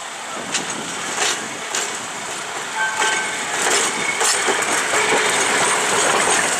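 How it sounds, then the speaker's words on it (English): A Midwest Electric trolley pulls out of the main depot at the Old Threshers grounds in Mount Pleasant, Iowa. Wheels clatter and rumble close by, with scattered clanks and faint crowd murmur, and a brief horn-like tone sounds midway. "Old Threshers visitors board the trolleys, departing the main depot towards the log village."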